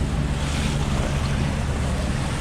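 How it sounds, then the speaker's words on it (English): Sailboat motor sailing offshore from Fort Pierce, Florida, through five- to six-foot seas with the wind on the nose: a steady, loud wash of waves and wind roar with a low engine hum throughout, no voices. "Anyway, we're motor sailing."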